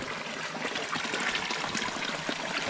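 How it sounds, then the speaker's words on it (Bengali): Steady broadband rush of spring water flowing and splashing from a pipe, continuous and fairly close, with no voices. "এই ভিতর থেকে পাইপ দিয়ে তারা ঝর্ণার পানি এইভাবেই সংগ্রহ করে"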